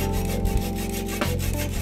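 A chisel cutting a turning length of wood on a lathe while shaping a walking stick, a steady close scraping hum with a rhythmic drone and brief catches.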